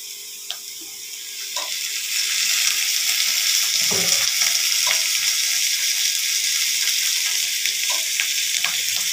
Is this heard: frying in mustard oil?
yes